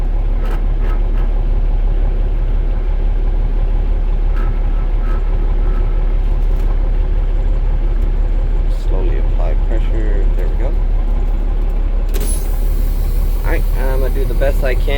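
Kenworth T800 truck pulling off on a test drive, with a constant low engine rumble and drone throughout, someone talking over it, and a sharp click near the end.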